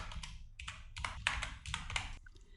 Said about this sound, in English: Hit F2 on the keyboard